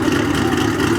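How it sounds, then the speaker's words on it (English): A car engine fitted with a Porsche exhaust on an LS platform rumbles steadily and loudly at a car show, holding an even, close idle for about a second with no talk. "Sounds like he has a Porsche exhaust on it."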